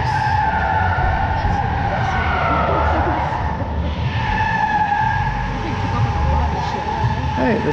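A Ford Lightning electric pickup accelerating hard at Portland International Raceway, a loud, steady rush of tire and motor noise that builds and sweeps past over several seconds, with crowd and background voices under it.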